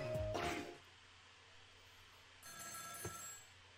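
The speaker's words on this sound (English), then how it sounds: "The telephone is ringing." An old-style telephone bell rings in the video game Ghost Trick: a short loud burst of ringing, a quiet gap, then a second, softer ring, with no speech.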